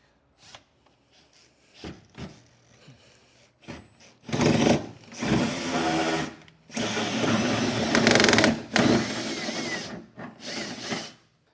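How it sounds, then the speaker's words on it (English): A power drill starts and stops in short bursts, then grinds hard through the metal of a 2023 Chevrolet truck bed in several loud, longer runs with brief pauses between. "get the drill between my legs to kind of hold that in place, and we'll get this drilled out"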